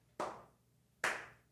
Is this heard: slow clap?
yes